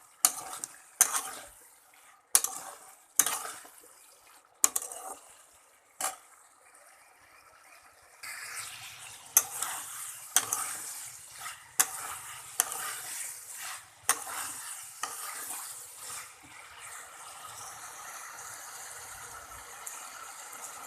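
Drumstick stems and potatoes sauté over a low flame, with a run of sharp, evenly spaced spoon scrapes against the pan giving way to a steady, close sizzle broken by softer stirring strokes.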